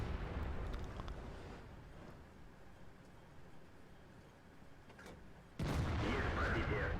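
IS-3A heavy tank in World of Tanks fires its cannon: a sudden loud, close blast near the end cuts through a steady rumbling background of engine and battle noise.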